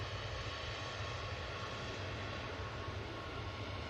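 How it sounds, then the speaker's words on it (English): Ryanair Boeing 737 Max 8 departing runway 05 left, a steady, fairly faint engine roar with low rumble, continuous and without talk. "we have this Ryanair Max 8"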